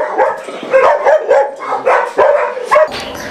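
A Belgian Malinois cross named Smiler barks loudly and close up in a rapid run of sharp, throaty barks with little gaps between them, an agitated display toward visitors.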